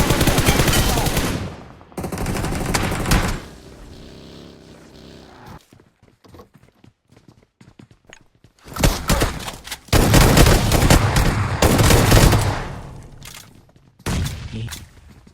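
Gunfire rings out in the video game PUBG during a scrim match, with loud bursts of rapid automatic shots, a quiet lull of scattered single shots, and then heavy fire again.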